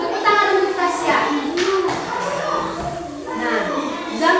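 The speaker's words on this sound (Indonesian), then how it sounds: "Tepuk tangan untuk Tasya." Classroom applause for a student named Tasya during a science lesson, quick scattered clapping from several pupils mixed with children's chatter and voices, close and lively.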